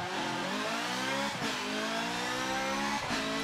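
A racing car engine in Forza Motorsport 7 roars and revs from inside the cabin, pitch climbing through gears with brief dips between shifts, loud and continuous.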